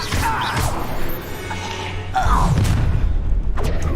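Levioso, a lifting spell in Hogwarts Legacy, is cast with a deep booming hit and clattering impacts. A second heavy burst lands midway, and a voice can be heard faintly in the mix.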